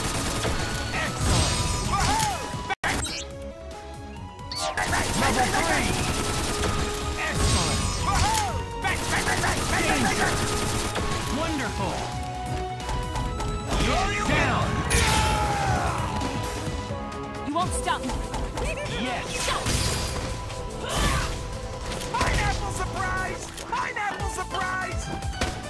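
Frantic Ultimate Marvel vs. Capcom 3 match with Virgil and Deadpool, dense rapid gunshots, metallic clanks, crashes and hit effects layered over game music, loud and nearly continuous, with a player's voice talking and shouting throughout.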